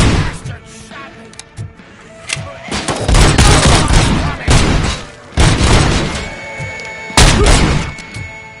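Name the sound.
gunshots in RoboCop: Rogue City video game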